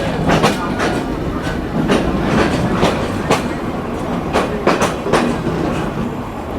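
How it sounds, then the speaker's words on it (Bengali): Clickety-clack of a train rolling away after leaving Jessore railway junction in Bangladesh, loud repeated wheel knocks over rail joints against a constant rumbling roar, heard from aboard. "আমাদের ট্রেনও কিন্তু ছেড়ে দিয়েছে"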